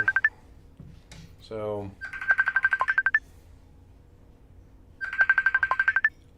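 Messenger call ringtone ringing in the background during a live stream: two bursts of rapid repeated electronic trill tones separated by a pause, with a brief spoken word and a short tonal blip before the first burst.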